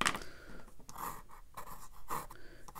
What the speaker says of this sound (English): And I'll go back and use my pencil.